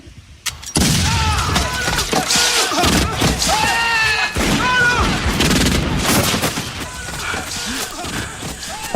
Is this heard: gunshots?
yes